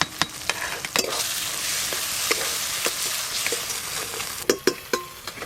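Spice masala for khichuri sizzles in a pot with a soft continuous hiss, punctuated by sharp spoon knocks and scrapes as it is stirred, with no voices.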